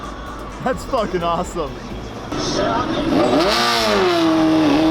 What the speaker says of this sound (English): This guy's got one of those loud bikes.